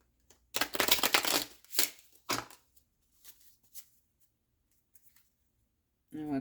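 Tarot cards are shuffled by hand in a few quick riffling bursts near the start, followed by softer scattered card handling, a brief pause, and a faint voice at the very end.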